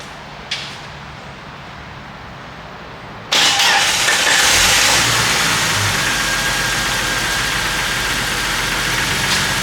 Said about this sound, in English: we will crank it and see if we got fuel pressure